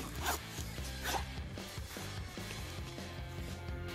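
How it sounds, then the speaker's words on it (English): The zipper on a firm Pit Viper goggle case is drawn along in several rasping pulls, close and clear, with short pauses between strokes and no voices. "there is a zipper."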